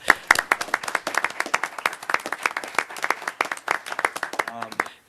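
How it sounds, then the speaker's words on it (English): A room at a parks district board meeting breaks into applause, a string of distinct, close hand claps in an irregular rhythm, with a voice briefly at the end. "So let's give her a round of applause."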